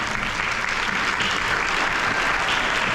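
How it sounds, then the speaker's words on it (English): Volunteers get a round of applause at a high school alumni hall of fame luncheon, loud, dense clapping from a crowd that stays steady and unbroken throughout. "give you a big round of applause"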